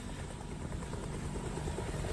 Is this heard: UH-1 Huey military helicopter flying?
yes